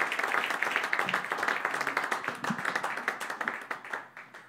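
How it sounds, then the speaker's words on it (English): Audience applause with scattered claps right after a live acoustic set by Lenny Lashley's Gang of One, steady and fairly close for several seconds, thinning out toward the end. "Keep the applause going."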